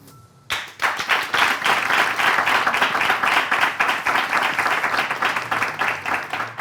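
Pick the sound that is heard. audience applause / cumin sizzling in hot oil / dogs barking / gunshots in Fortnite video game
audience applause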